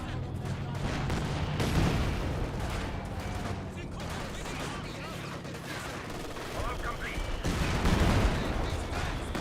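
Tank gun firing in Company of Heroes 2 battle: several heavy, booming shots amid continuous battle noise and scattered gunfire, with a loud blast near the start and another near the end.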